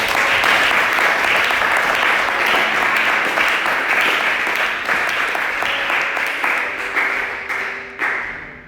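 A church congregation applauding, loud sustained clapping from a large crowd that gradually thins and fades toward the end, with faint voices mixed in.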